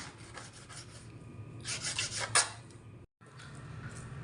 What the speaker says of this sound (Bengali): এইখানে পেরিনের বাবা পেঁয়াজ, সবজি, মাছ সবগুলো কেটে দিচ্ছে